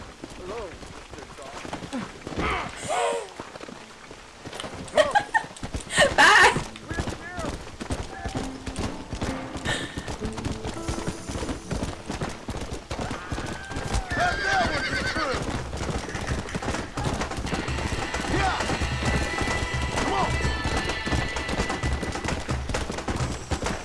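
Hooves clip-clop at a gallop and a horse neighs in the Western video game Red Dead Redemption, with gunfire bursts and someone talking over the steady hoofbeats.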